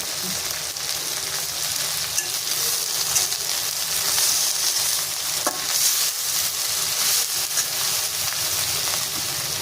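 Okra pieces sizzle and crackle steadily in a hot pan, seasoned with a little salt, with a continuous close frying hiss broken by occasional stirring scrapes.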